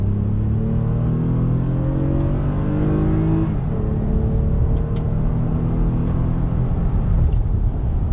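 A 2020 Toyota Sienna minivan accelerates on a highway, its engine drone rising steadily in pitch over road rumble, shifting once and climbing again, close and continuous with no talk.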